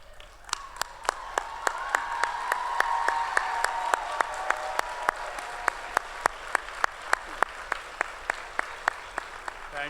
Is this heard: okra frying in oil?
no